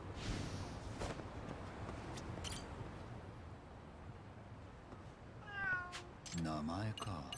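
A cat in the video game Lost Judgment gives a few short meows, the last ones near the end clearer and closer, with someone talking around them.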